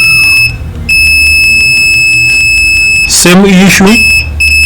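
A steady high-pitched multimeter continuity beep sounds almost throughout, with brief breaks, while someone talks over it during fault-finding on a laptop motherboard.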